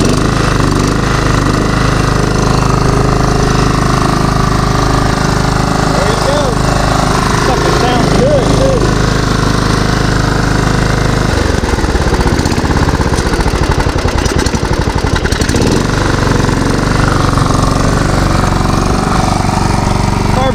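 An old riding lawn mower engine with a dirty carburetor runs close by, rough and reluctant to idle. Its steady low drone shifts partway through, and voices talk over it.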